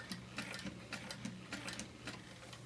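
A sewing machine stitching strap connectors onto a handbag, a fast rattling mechanical whir with rhythmic ticking pulses, fairly quiet and close, with no voices.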